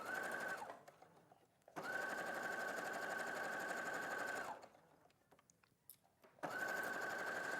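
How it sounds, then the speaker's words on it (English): Domestic sewing machine stitching through pinned-together fabric pieces, running steadily in three bursts separated by quiet pauses, close and distinct with no speech. "We're going to sew this now."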